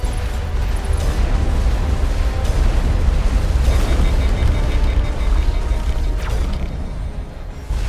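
Weapon fire and heavy explosive booms from the Mass Effect 1 video game, loud and continuous over eight seconds, with repeated rumbling blasts and mechanical clatter layered together.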